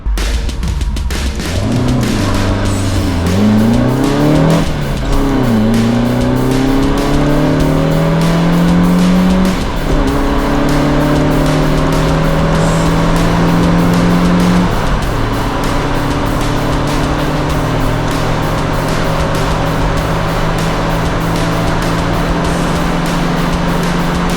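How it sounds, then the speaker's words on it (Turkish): A Peugeot 205 accelerates hard from a standstill, its engine note climbing through repeated rising sweeps as it shifts through the gears, with tire squeal at the launch; loud and close throughout, with no talking. "Aracın karbüratörlü halindeki tepkimelerine henüz ulaşamadığım için kalkış performans denemesi olduğu kadarıyla sizlerle."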